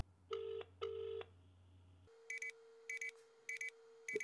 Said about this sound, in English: Let's go and call my nan.